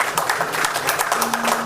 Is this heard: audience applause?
yes